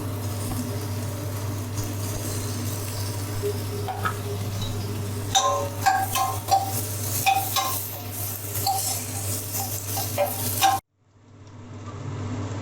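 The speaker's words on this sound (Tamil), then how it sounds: "வெங்காயம் வதங்கினதும் இப்போ நம்ம தக்காளியை சேர்த்துடலாம்." Tomatoes and onions sauté in a pan under a steady close sizzle, broken by a run of scraping stir strokes and clinks before the frying cuts off abruptly.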